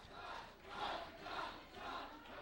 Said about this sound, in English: And the crowd is chanting Todd Sexton's name, obviously firmly behind Mr. Sexton.